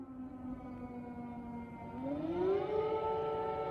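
Air raid siren sounding over Kyiv, Ukraine, at night: a steady wailing tone that holds, then rises in pitch and swells louder near the end, heard alone with no voices.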